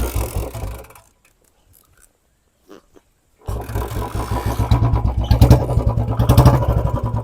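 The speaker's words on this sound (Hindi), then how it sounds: "बाइक अपनी स्टार्ट हो चुकी है।" A Royal Enfield Bullet 350 BS4 runs with a thumping single-cylinder beat, cuts out into near silence with a couple of faint knocks, then restarts and settles into a loud, rhythmic chugging idle close by.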